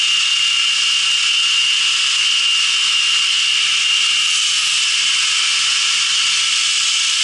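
A 2x72 belt grinder runs continuously as a recurve knife bevel is ground against a bevel guide, giving a loud, steady, bright hiss of abrasive on steel with no breaks and no talking.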